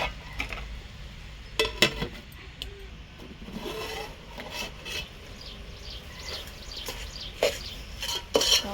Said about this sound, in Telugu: కొద్దిసేపు మగ్గరేద్దాం మూత పెట్టేసి